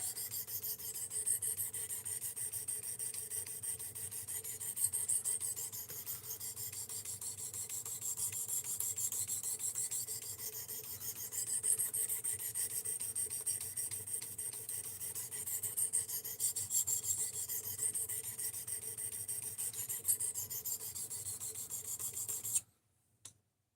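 A knife rasps against the belt of a Work Sharp RMX sharpener in a steady, continuous grinding rub, close and fairly quiet, stopping abruptly at the end.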